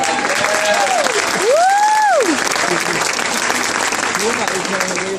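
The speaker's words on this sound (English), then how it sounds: "Give a round of applause for the" Guests at a wedding reception applaud the bridesmaids during a best man's toast: loud, sustained clapping from a sizable crowd filling the whole stretch, with a voice speaking briefly over it.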